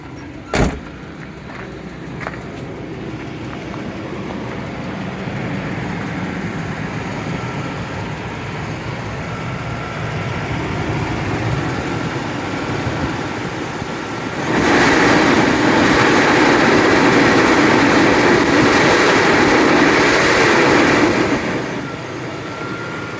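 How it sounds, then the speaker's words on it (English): A 1998 Chevrolet GMT-400 truck idles with a steady rumble and loose rattle, after a sharp bang near the start, then grows louder and harsher for several seconds before easing back. "that rattling that you're hearing"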